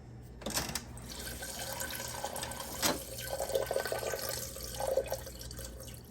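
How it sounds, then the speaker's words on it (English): A Whirlpool refrigerator's water dispenser runs to purge a newly installed EveryDrop filter, a steady close stream of water trickling and splashing into a container with a few faint drips and knocks. "And now we're going to purge it. And it's just going to run."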